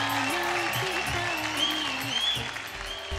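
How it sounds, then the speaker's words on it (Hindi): An audience at a televised singing competition claps loudly and steadily for a performance, a dense burst of applause filling the whole moment. "एक बार जोरदार तालियां"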